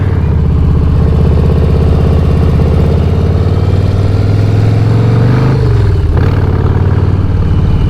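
A 2019 Harley-Davidson Street Bob cruiser motorcycle rumbles loud and close with a deep, steady engine note that dips briefly near the end and then settles back into its throaty drone.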